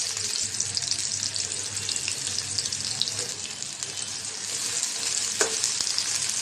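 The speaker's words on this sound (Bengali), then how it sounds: "পেঁয়াজটা হালকা করে ভেজে নেব।" Chopped onions frying in oil in a wok (kadai), a base for a dried-fish bhuna, giving a steady, close, even sizzle with no talk throughout.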